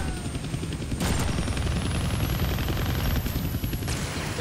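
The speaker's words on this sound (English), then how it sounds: "I can't kill that chopper with my guns," Rapid gunfire aimed at a military helicopter in a Deadpool video game, dense continuous bursts over a heavy low rumble of rotor and engine noise, loud and close throughout with no talk.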